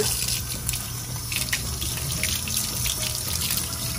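Warm water runs steadily from a kitchen tap into a sink ahead of seasoning cast iron, a constant close splashing rush with no talking.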